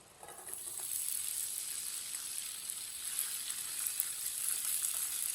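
Okra (bhindi) dropped into half a cup of hot oil for masala bhindi, a steady close hissing sizzle that swells slightly and holds throughout with no talk.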